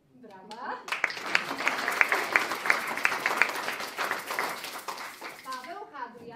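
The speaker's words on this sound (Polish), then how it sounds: "Brawa." Audience at a community theatre show in Kraków clapping steadily for several seconds after a cast member is introduced, a dense, even wash of many hands that swells in and tapers off, with a voice speaking at the edges.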